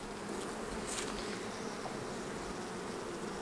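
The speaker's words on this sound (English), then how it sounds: "this hive is just full of bees" Dense, steady buzzing of many honey bees in a hive, close and continuous throughout with no voices.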